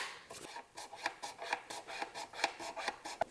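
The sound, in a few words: small scraper cleaning glue off classical guitar fretboard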